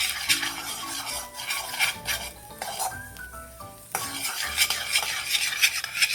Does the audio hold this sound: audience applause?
no